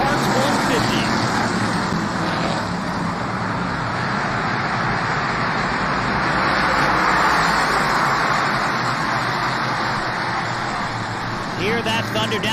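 Whelen Modified race cars thunder down the back straightaway at Lancaster Motorplex at the start of a 150-lap NASCAR race, a dense, steady roar of many engines with a packed grandstand crowd blended into the wash.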